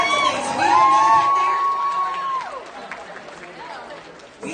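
A crowd at a charity auction for an animal shelter gala cheers and whoops loudly, with a long rising whistle-like shout and applause throughout; voices call out over the noisy hall.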